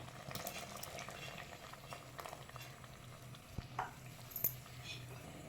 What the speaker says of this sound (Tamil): இப்போ நம்ம தாளிச்சூட்ட விட்ட மசாலா கொதிக்க ஆரம்பிச்சிருச்சு